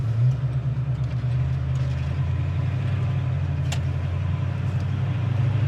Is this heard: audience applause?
no